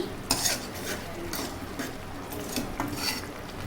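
A spoon stirs fish curry in a pot, giving soft scraping and clinking strokes at a steady unhurried rhythm, fairly quiet and close with no talking.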